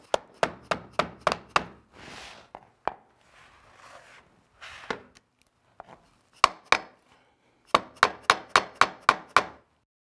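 Sharp hammer taps on a tapping block drive the end piece of a waterproof vinyl plank floor into place, arriving in quick bursts of five or six knocks with a few scattered softer thumps between, close and loud.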